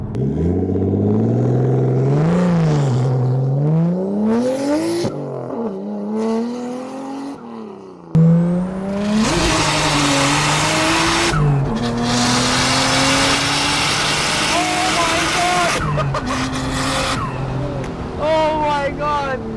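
A Nissan Skyline R34 engine revs hard again and again through a screamer pipe, the exhaust roaring and rising in pitch, loud and close, with voices talking over it.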